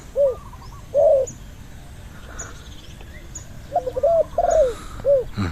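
Doves cooing in short repeated phrases, a few separate calls in succession, fairly close and clear against a quiet outdoor background with faint chirps.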